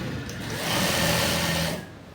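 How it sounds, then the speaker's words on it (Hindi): A sewing machine stitches elastic into men's bermuda shorts, running as a steady, close mechanical whir that swells for about a second and a half before stopping. "बीचों बीच सिलाई मारनी है"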